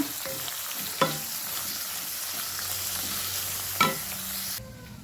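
Soft, continuous sizzle of onions frying in oil for a bitter gourd stir-fry, broken by two sharp clanks of a utensil against the pan, before cutting off near the end.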